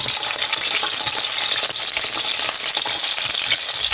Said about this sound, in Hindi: इनको हल्का हल्का फ्राई करेंगे।